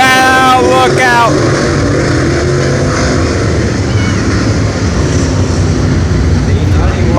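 Race cars roar together at the start of a heat race at Brownstown Speedway, a dense, loud engine drone that holds steady throughout, with an announcer talking over it at the opening.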